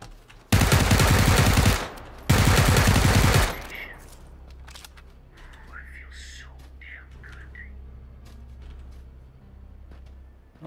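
Gunfire in the PUBG battle royale game: two long, loud sustained bursts of automatic fire in quick succession, followed by quieter game ambience with faint distant noises.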